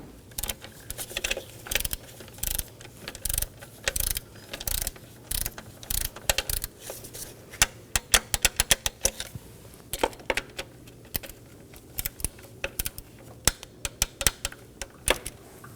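A torque wrench ratchets in quick, crisp clicking bursts with short pauses between them. It is tightening the valve cover bolts on a 2015-2023 Nissan Maxima 3.5L V6, and the clicks sound close and clear in a quiet space.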